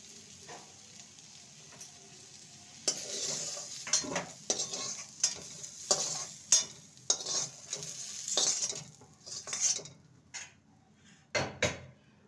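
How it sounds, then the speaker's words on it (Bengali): Raw banana and potato pieces fry in a pan, with sizzling under repeated sharp scrapes and clatters of a utensil against the pan that come in irregular bursts. "কাঁচকলা আলুকে ভেজে নিয়েছি, এবার এগুলোকে নামিয়ে নেব।"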